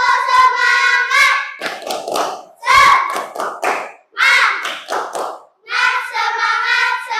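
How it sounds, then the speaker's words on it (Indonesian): A fourth-grade class doing a rhythmic spirit clap routine, children chanting in bursts with patterned hand claps between and under their voices. "Tepuk semangat!"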